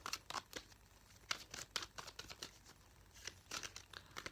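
Playing cards are shuffled in a series of quick crisp riffles and snaps, close and fairly quiet, with no voices.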